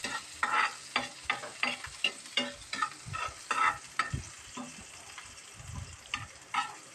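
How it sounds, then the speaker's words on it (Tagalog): Onion and garlic sautéing in a pan for a pork liver dish, heard as a steady sizzle broken by repeated scraping stir strokes and clinks of a utensil against the pan, close and moderately loud with no talking. "igisa natin muna bago ilagay ang ating gulay"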